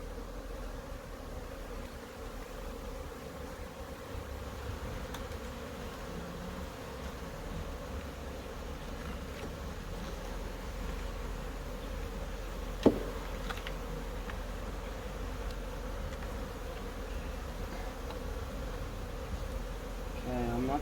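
Honeybees hum on a brood frame during a hive inspection, a steady, soft, close drone throughout with one brief click partway through.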